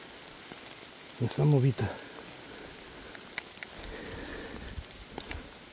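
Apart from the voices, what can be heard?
rain falling in a forest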